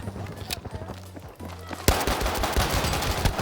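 Gunfire in a sniper video game as enemies shoot at a decoy: scattered shots give way to a dense, rapid burst of automatic fire, loud and close, with bits of voice in the mix.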